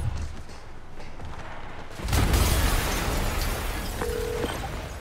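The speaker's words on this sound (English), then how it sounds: "an explosion just... I saw it." An explosion in Marvel's Spider-Man Remastered, a sudden heavy boom that erupts from a low rumbling backdrop and then sustains as a loud, rolling roar with crackling debris, with a brief tonal beep near the end.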